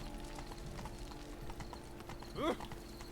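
Horse hooves clip-clop steadily on the road in The Witcher 3, a quiet rhythmic patter under game ambience, with a short horse whinny rising near the end.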